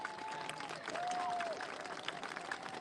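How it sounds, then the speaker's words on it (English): Audience at a gathering applauding the stewards, a faint, steady wash of clapping throughout with a whistle-like tone and some crowd noise mixed in. "If we just have a round of applause for the stewards"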